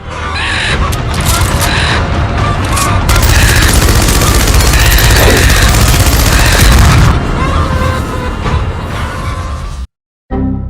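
A machine gun fires at emus in a dense, loud, continuous stream of rapid shots for nearly ten seconds, then cuts out abruptly when it jams, leaving a brief silence.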